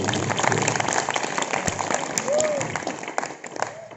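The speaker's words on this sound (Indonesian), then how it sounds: "tepuk tangan dulu, bukan suara" Scattered applause from an audience at a kitab-reading demonstration, steady broadband patter with brief voices mixed in throughout.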